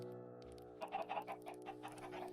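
Chickens in the Minecraft video game (version 1.18.2) give a quick run of short clucks over a sustained tonal background, clear and fairly close, with no talking.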